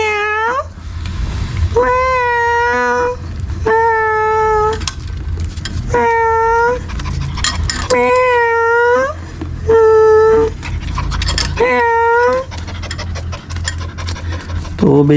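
A cat meows repeatedly and loudly, long drawn-out calls every second or two, over a low background rumble.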